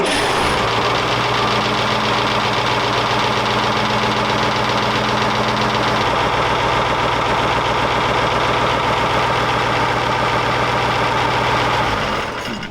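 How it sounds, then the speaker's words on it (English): A StuG III Ausf. G tank engine under restoration turns over on the starter, catches and settles into a loud, steady, rumbling idle with a knocking pulse that carries on for the whole stretch before cutting off at the end. "So now we'll crank the engine and see if it'll start."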